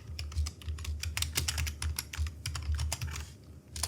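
Fingers type on a computer keyboard in a quick, uneven run of close, crisp key clacks for a few seconds, with a low hum in the background.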